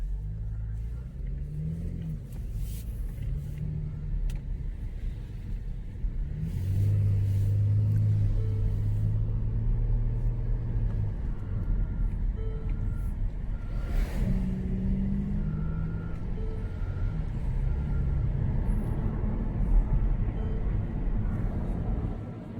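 A 2014 Mercedes E350 car pulling away and accelerating, its engine rumble building and then holding at a steady cruise, heard from inside the cabin with faint road noise.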